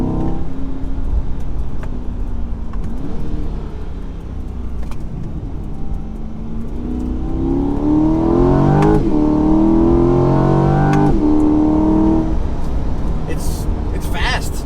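A mid-engine Chevrolet C8 Corvette Stingray Z51 accelerating from inside the cabin, its engine note rising steadily through the revs with a gear change and then climbing again, loud and continuous.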